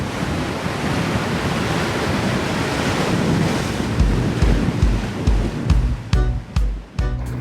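Ocean waves wash onto a beach in Okinawa, Japan, a loud continuous roar of surf with wind buffeting the microphone, the crashes growing choppier and more distinct toward the end.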